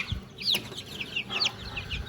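Young silkie chickens give a few short, soft clucks and chirps close by, with light handling noise beneath and no talking.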